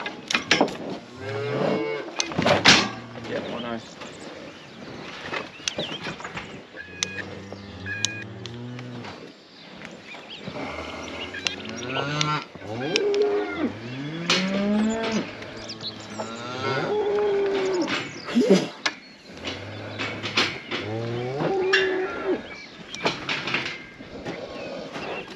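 Beef heifers moo repeatedly and loudly at close range in a cattle handling area, calls overlapping and varying in pitch across the whole stretch, with occasional clanks in between.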